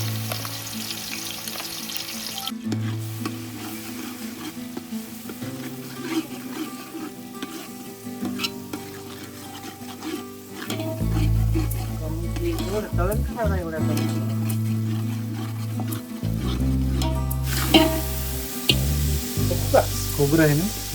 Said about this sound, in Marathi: आणि त्यात कांदा लसूण पेस्ट छानपैकी परतून घेऊ.